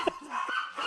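Dogs bark and yip at a noise outside during a wet snowstorm, a short, close, excited burst.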